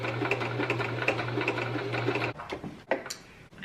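Sewing machine stitching the folded triangle corners of a reusable grocery bag: a steady whirring motor hum with rapid needle chatter for about two seconds, then it stops and is followed by scattered fabric handling clicks.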